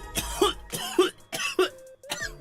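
A person coughing close to a microphone, four loud harsh coughs in a rough steady rhythm, with a short rasp at the end and no words.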